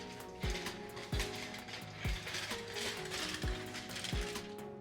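A hand pepper grinder is twisted up close while seasoning baked potatoes. It gives a series of about six rhythmic ratcheting, crunching turns at an even pace, with no voices.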